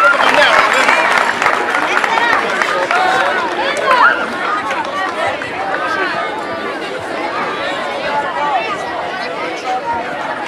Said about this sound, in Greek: Ένα μεγάλο χειροκρότημα για τα αγόρια αυτά.